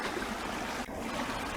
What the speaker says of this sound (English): now we're right up next to the river